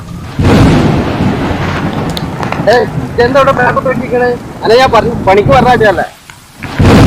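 Rain with rumbling thunder, a steady wash broken by a deep rolling rumble near the start, with people talking over much of it.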